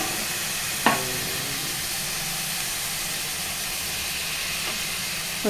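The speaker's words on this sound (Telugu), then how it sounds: "ఇప్పుడు టమాటా వేయాలండి" Tomatoes dropped into a hot pan of spinach, green pea and spring onion curry set off a loud, steady hissing sizzle after one sharp initial splash, continuing unbroken with no talking.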